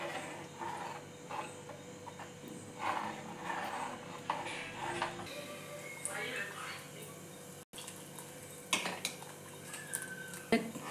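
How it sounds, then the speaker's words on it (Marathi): A spoon stirs kadhi in a metal pot on the stove, with scattered scrapes and clinks against the pot while a person talks over it. "हे कंटिन्यूअस आपण हलवत राहायचं आहे"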